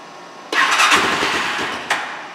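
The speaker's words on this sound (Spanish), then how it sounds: "Vamos a ver cómo enciende aquí. Este es en frío sin colocar el ahogador." A Loncin JL250GY motorcycle engine cranks cold without the choke, catching abruptly with a loud burst that runs briefly before a second surge, heard up close with no voices.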